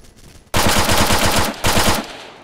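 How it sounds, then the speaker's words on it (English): Machine gun fire in the video game Arma 3, played in a battle royale mod: two loud, rapid bursts of automatic shots, close and alone, with a short gap between them. "Gunshots."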